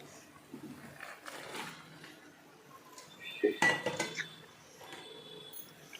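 Boiled rajma beans tipped into a pan and stirred through a gravy, with scattered metallic scrapes and clinks of spoon against pan, a sharper clatter midway, and faint background noise.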